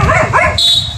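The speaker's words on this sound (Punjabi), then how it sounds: "ਕੁੱਤੇ ਬਹੁਤ ਭੌਂਕ ਰਹੇ ਨੇ" Dogs near a canal barking sharply, a few quick close barks followed by a thin high whine, loud and brief.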